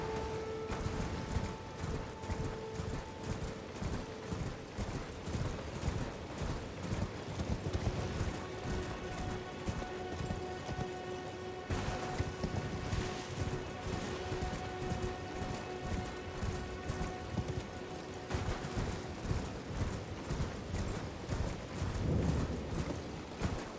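Horse hooves clip-clop at a steady trotting pace in Elden Ring, riding through ruins, with light rain-like patter and faint game ambience underneath.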